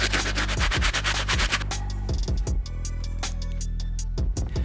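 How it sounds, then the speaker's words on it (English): Stiff-bristled brush scrubbing a Yeezy 350 Sesame sneaker during cleaning, a run of rapid rhythmic rubbing strokes up close, then a steadier scrubbing pass with a few sharper brush flicks at the end. "I am gonna hit it with our stiff brush just to give it an extra go."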